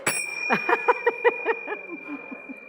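A gong struck softly during a live show, about ten light, evenly spaced strokes that ring briefly and fade in strength toward the end, with a steady high tone held underneath.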